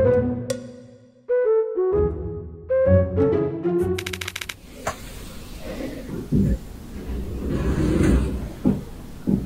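A pocket door slides in a house where electricians have been working, a rattling, scraping rumble that runs for several seconds after a stretch of plucked musical tones, fairly close and loud.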